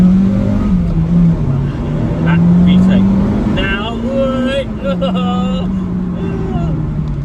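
A Honda Civic Type R EP3 engine revving up through first gear into VTEC with the windows down, a loud rising drone that climbs in pitch, drops at the shift, then climbs again, with someone talking over it.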